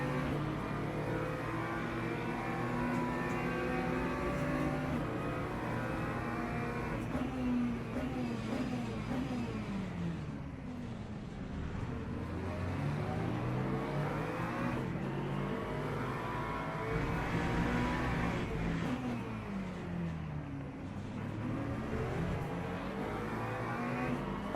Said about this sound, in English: Oh yeah, the BMW acceleration.